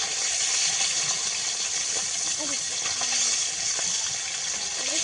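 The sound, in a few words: water being poured into the crab curry pot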